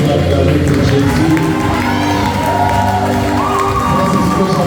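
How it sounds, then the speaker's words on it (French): A church congregation cheering in unison, a loud sustained roar of crowd shouts, whoops and scattered applause with children's voices, filling the room continuously at close range. "Ça, c'est ce que j'appelle une acclamation de niveau 1."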